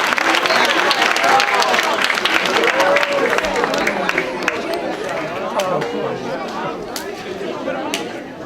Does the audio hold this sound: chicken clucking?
no